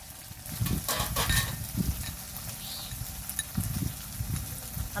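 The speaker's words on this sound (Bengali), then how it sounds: "টমেটোটাকে ভালো করে মশলার সাথে কষে নেব।" Tomato cooking down with spices in a pan for a village-style mourala fish curry, a low sizzle under intermittent scraping thumps of a spoon stirring, close and moderately loud.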